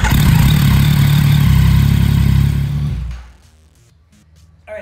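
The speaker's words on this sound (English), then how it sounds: "So I'm gonna fire the bike up." A motorcycle engine runs at a loud, steady idle with a droning low hum, then cuts off abruptly after about three seconds, leaving near silence.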